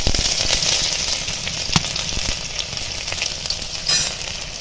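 Five-spice, chopped garlic and green chillies fry in hot oil in a wok, giving a loud, continuous close-up sizzle with occasional pops and stirring scrapes and no talking.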